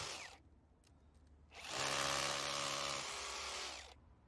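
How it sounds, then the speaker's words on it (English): A power drill drills two holes in a back plate kit, whirring loudly for about two seconds, its pitch dropping slightly before spinning on for another second, then stopping, with faint clatter beforehand. "we'll do the other one, which is drilling the 2 holes again"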